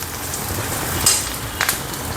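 Curry leaves dropped into hot oil for a vegetable dish, giving a steady close sizzle and crackle with a couple of brief sharper spits.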